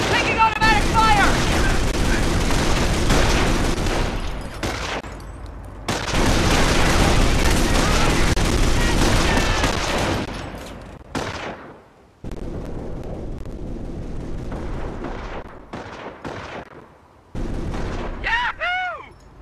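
Automatic gunfire rattles in Company of Heroes during a battle, with dense bursts of rifle and machine-gun fire, booming explosions and shouted voices, fading in and out in loud waves.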